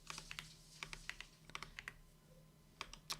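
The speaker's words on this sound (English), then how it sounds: "My guy, what is my typing doing to me?" Fingers tap on a computer keyboard in irregular bursts of crisp clicks with short pauses between runs, close and fairly quiet, with no talking.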